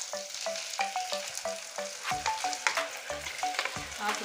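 Sliced onions fry in mustard oil to become crisp beresta, with a loud, close, steady sizzle broken by regular stirring strokes and no talking.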